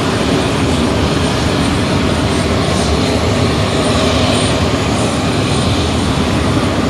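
An aircraft taxis nearby, its engine and propeller producing a loud, steady broadband roar that holds constant without talk.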